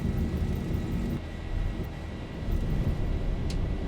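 Boeing 737-800 jet engines at full takeoff thrust in X-Plane 11, a Zibo 737-800 on a Heathrow to Amsterdam departure: a steady, loud, broad roar that holds throughout and swells slightly toward the end.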